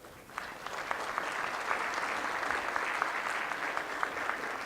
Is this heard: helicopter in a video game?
no